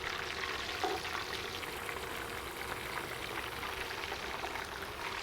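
Burger patties cooking on a griddle in old, long-used grease give off a soft, even sizzle that holds steady throughout at moderate distance.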